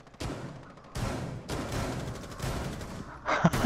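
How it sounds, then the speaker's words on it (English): Shotgun blasts in a video game shooter: about six sharp, booming reports spaced irregularly roughly half a second to a second apart, fairly close and loud, with no voices over them. "Guys are using shotguns."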